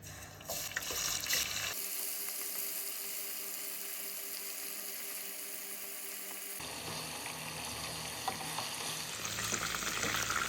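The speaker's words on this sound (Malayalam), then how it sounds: "നന്നായിട്ട് മാരിനേറ്റ് ചെയ്തെടുത്തതിന് ശേഷം ഇത് ഫ്രൈ ചെയ്തെടുക്കാം" Marinated chicken, seasoned with chilli powder, garam masala, salt and vinegar, sizzles and crackles steadily in hot oil for a biryani, with occasional stirring and a brief watery splash near the start; no one speaks.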